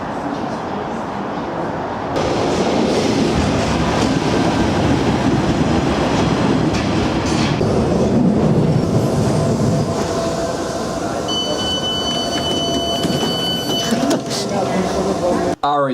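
A commuter train arriving at a station in Sunderland, a loud sustained rumble and clatter of railcars rolling in close by, with a faint high squeal of brakes near the end and voices talking over it.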